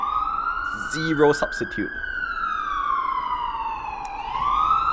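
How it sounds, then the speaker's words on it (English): An ambulance siren wails steadily as it passes nearby, its pitch sliding up and down and swelling toward the end, with a voice talking over it. "And that's an ambulance."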